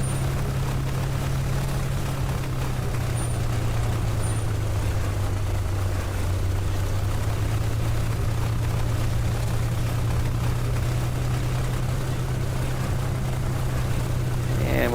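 A P-51D Mustang's piston engine idles and throttles gently while taxiing in the A2A flight simulator, producing a steady low droning hum throughout with faint cockpit noise above it.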